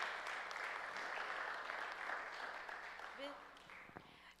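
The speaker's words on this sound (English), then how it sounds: "Give him a round of applause." Audience applause during a legislative certificate presentation, a steady broadband patter of clapping that holds for several seconds and thins out toward the end, with some voices mixed in.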